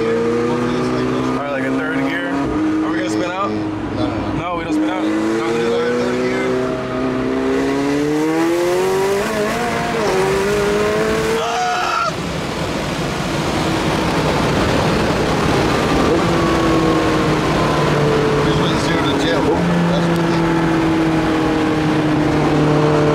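Car engine making roughly 900 wheel horsepower on race gas revving hard during a dyno pull, loud rising and falling engine tones that climb through the gears, with voices talking over part of it.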